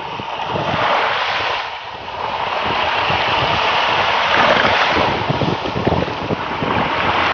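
Ocean waves wash onto an island beach in the Thousand Islands, a loud continuous surging roar with wind buffeting the microphone and swells rising and falling over several seconds, and no speech.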